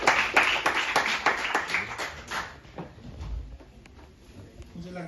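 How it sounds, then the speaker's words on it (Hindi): An audience claps briefly after a speech at Hansraj College, a short burst of close applause that fades within a few seconds, with a voice speaking faintly beneath it. "मुझे लगता है हमें और भी जोरदार तालियां एक बार बजानी"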